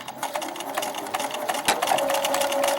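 A sewing machine stitches through felt and then back-stitches, running as a steady rapid whirring clatter close up with a brief pause and restart partway through.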